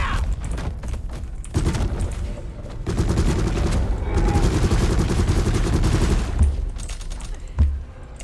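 Sustained video game gunfire: dense bursts of rapid automatic shots and booms, loud and close, running through most of the clip with brief gaps and no talk.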